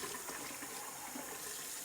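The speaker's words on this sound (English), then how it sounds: "I hold this open while I'm rinsing it" Running water rinses a removable part of a DeLonghi Clessidra drip coffee machine under a tap, a steady close splashing wash that continues evenly throughout.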